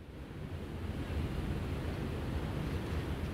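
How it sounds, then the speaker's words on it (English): The Grand River in Grand Rapids, West Michigan, running high and fast during flooding, a steady broadband rush of moving water with some wind noise, continuous and fairly loud throughout, no talking. "you can definitely hear the Grand River behind me flowing very fast."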